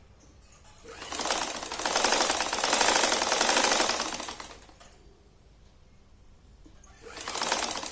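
A sewing machine stitches the side seams of cloth pieces for a gomukhi japa mala bag, running in two sustained bursts of rapid mechanical whirring with a brief pause between them, close and fairly loud.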